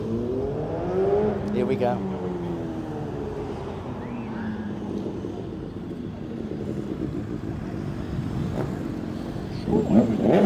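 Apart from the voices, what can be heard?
motorcycles riding past at Matlock Bath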